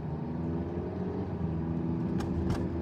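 A car engine hums low and steady from inside the vehicle while driving, a faint continuous drone with a couple of brief higher rustles near the end.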